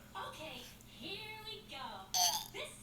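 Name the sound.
child burping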